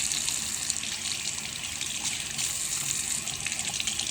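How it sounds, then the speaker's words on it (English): Lukewarm water runs from a tap in a steady, fairly loud gushing stream that continues without break, with no voices over it. "So I got to use lukewarm water."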